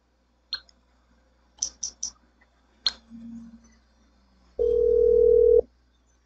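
A phone in Grand Theft Auto V placing a call for a cab: a few sharp clicks and taps of dialing, then a single steady ringing tone for about a second, clear and close.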